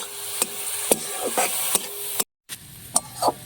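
Veg momo filling is stirred and fried in a pan, with a hiss of frying under a series of sharp scrapes and taps of the spoon against the pan, broken by a brief silent gap.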